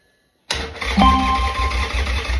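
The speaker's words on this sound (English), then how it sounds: "at least get you hearing the sound of the bike starting up" A carbureted motorbike engine cranks and catches after a moment of silence, then settles into a close, steady idle with a low rumbling pulse.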